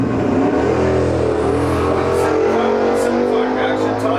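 A 1967 Chevelle and a 1969 Plymouth Satellite drag racing at a dragstrip, engines roaring loud and steady as the cars pass, the pitch sliding gradually lower, with a commentator's voice over the noise.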